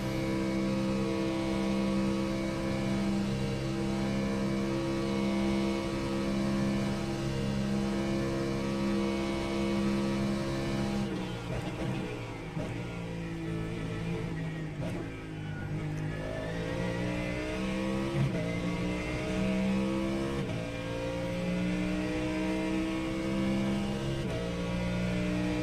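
Corvette GT3 race car engine on track gives a loud, sustained high-revving drone, dipping and rising through gear changes and braking midway before climbing again, with no talking.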